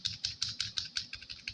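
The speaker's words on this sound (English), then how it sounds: "Just spam delete on your keyboard." Rapid, evenly spaced clicks of the delete key on a computer keyboard pressed repeatedly, about six taps per second, close and crisp.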